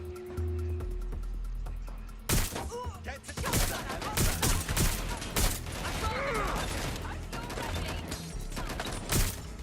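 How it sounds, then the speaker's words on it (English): Gunfire crackles in rapid bursts in the game Watch Dogs Legion during a firefight at a PMC site, loud and close, with shots overlapping after an opening stretch of quiet ambience. "Suspect shooting!"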